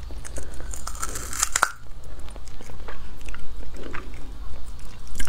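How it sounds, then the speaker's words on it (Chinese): Someone bites into a spiky cili prickly pear fruit with a sharp crunch, then chews it wetly and steadily at close range, with soft murmurs in between. "今天来吃一个这个浑身长满刺刺的水果，好像叫什么刺梨"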